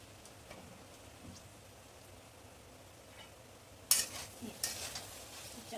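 Okra roasts in a pan over a slow flame, a faint soft sizzle under occasional light stirring scrapes, with a couple of sharper clattering stirs toward the end.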